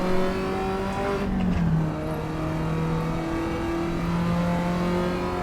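An old Alfa Romeo race car in Assetto Corsa EVO drones loudly and steadily, its engine note dipping briefly as it shifts, then holding a sustained, buzzy old-school tone.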